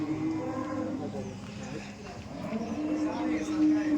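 A cow moos at a dairy farm among background noise and nearby chatter, a low drawn-out call that stands out against the steady din.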